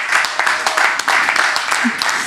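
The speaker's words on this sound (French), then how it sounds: "s'il vous plaît, applaudissez Ludivine" A French audience claps for a woman named Ludivine on her birthday, a steady burst of applause lasting a couple of seconds at close range without a break.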